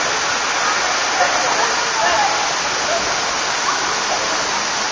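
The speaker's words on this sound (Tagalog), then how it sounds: "Hindi siya ganun kalakas tulad sa ibang falls." Katibawasan Falls, a tall waterfall with a fairly gentle flow, pours as a constant loud broadband rush of falling water with no breaks.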